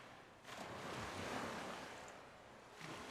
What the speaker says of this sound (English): Madrop, let me know if you can hear the crashing ocean waves.